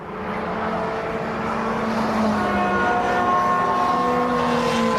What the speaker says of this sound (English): Car into the pits.